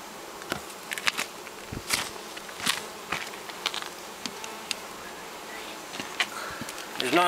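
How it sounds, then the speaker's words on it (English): Honeybees at a hive entrance on a hot day: scattered sharp buzzes and short flights pass close by against a faint steady background, with a few brief bursts louder than the rest. "Those bees came out of the hive in a hurry to cool down and get a drink of water"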